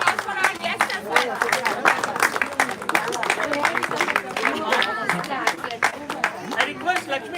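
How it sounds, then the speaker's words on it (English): Indoor audience applause and cheering for guests at a table tennis tournament award ceremony, a dense, steady wash of clapping with crowd chatter mixed in, lasting throughout. "Everyone, please have a huge round of applause for our guests as well."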